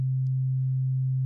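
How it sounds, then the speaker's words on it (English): Steady pure sine tone from a Serum software synthesizer oscillator, a constant low hum holding at even loudness alone throughout without any change in pitch. "So we have our sine wave here"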